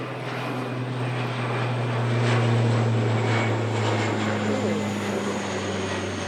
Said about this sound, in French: Quel avion.